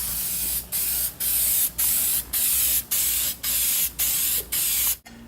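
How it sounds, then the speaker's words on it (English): A spray can puts high-gloss clear coat over a Plasti Dip finish in eight steady, loud hissing bursts, each about half a second long, separated by short pauses, with a click at the end. "I'm going to throw another coat of the clear coat over the Plasti dip now."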